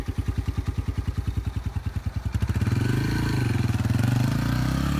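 A motorcycle engine idling with an even, loping putter, then revving up into a louder, sustained higher-pitched drone, close by with no talking.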